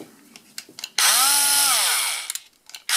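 A Bosch PSR 200 LI cordless screwdriver runs freely in one burst of about a second, a close whirring motor whine that spins up and winds down, with light handling clicks before and after.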